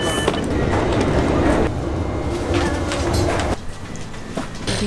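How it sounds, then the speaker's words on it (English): A Finnish passenger train on the Helsinki to Rovaniemi line moves along, giving a continuous rumbling onboard hum with faint rail clatter that eases slightly near the end. "We have just boarded this inner city train."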